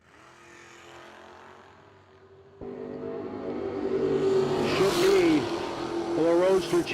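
Drag race car, the Roadster driven by Chittick or Wallen, launching down the track at the No Delay Nationals, a quiet engine rumble that jumps sharply into a loud, rising roar, with an announcer talking over it.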